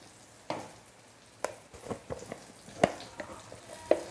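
Onions and masala sauté in a pan, a quiet crackle broken by a few sharp stirring scrapes and clinks, close and sparse with no voices.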